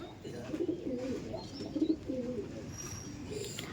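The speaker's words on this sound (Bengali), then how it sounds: "হ্যাঁ, তপন স্যারের পায়রা।" Pigeons of a high-flying breed from a Kolkata flock now kept in Ichapur coo softly and repeatedly in low, rolling phrases against a steady outdoor hiss.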